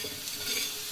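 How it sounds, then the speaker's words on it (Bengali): Coriander, cumin, ajwain and fennel seeds are dry-roasted on a hot tawa while being stirred. A brief, soft, steady hiss mixes with light scraping. "শুকনো কড়াই এইভাবে তাওয়াতে ভেজে নিতে হবে।"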